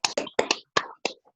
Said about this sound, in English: if everybody could unmute themselves in and give Mark a round of applause